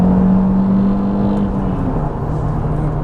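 A drift car's engine revs high, near its red line, heard from inside a quiet, well-insulated cabin as a muffled, steady drone with a tonal hum that drops slightly toward the end.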